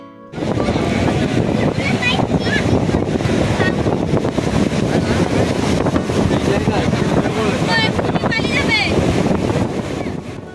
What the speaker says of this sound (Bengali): চলো সমুদ্রের এই ঢেউটাই না হয় আমরা একটু অনুভব করে নিই